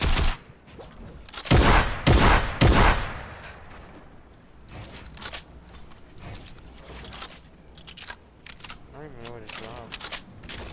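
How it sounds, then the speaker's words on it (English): Fortnite gunfire aimed at a care package: a few loud, sharp bursts early on, then a run of quieter mechanical clicks and scattered shots, with talking heard at times. "he's shooting the care package"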